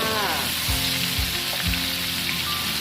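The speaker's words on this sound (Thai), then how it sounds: "ทอดปลาส้มค่ะ" Batter-coated sour fish (pla som) deep frying in oil, a loud dense sizzle filling the whole moment, with a few soft knocks of a utensil, close by, no talk.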